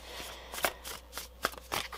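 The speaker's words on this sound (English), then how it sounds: "that's why live shuffling is fun" Tarot cards being shuffled by hand close up, several crisp riffling bursts and soft slaps in quick irregular succession, with no voices.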